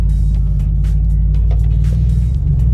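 An Alfa Romeo Giulia Quadrifoglio drives on a road test at dusk, heard from inside as a loud, steady low engine and road rumble with faint knocks and rattles over the top.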